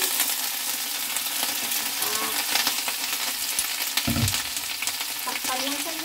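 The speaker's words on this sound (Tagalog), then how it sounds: "Ilalagay na natin yung last batch ng alugbati ni Ate Lailin." Garlic and alugbati leaves frying in a pan, a steady close sizzle with stirring scrapes and a brief louder burst as fresh leaves hit the hot oil.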